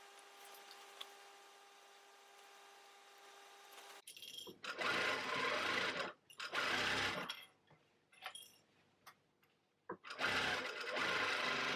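A domestic sewing machine stitches across the straps of a handmade tote bag in several loud, close bursts of whirring, with short pauses between runs, after a few seconds of quiet room hum.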